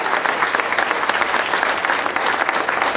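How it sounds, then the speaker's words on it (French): Dense, lively applause from an audience at a benefit evening, many hands clapping at once in a steady, close wash of sound from start to finish. "Donc, Morgane et Karine, vous pouvez leur faire un petit applaudissement."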